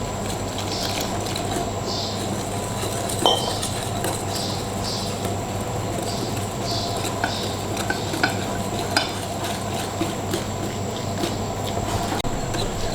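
Batter spiced with garam masala and red chilli powder is stirred and mixed in a bowl, a steady close scraping texture with faint clicks of the spoon, continuing without pause and with no voices.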